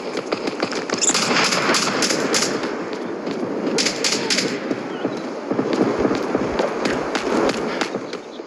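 Fireworks and firecrackers crackle in dense, rapid bursts close by on a New Year's night, with loud rattling volleys and sharp pops nearly continuous throughout.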